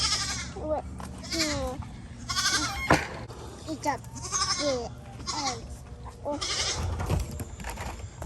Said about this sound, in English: All these goats that think they're gonna get food.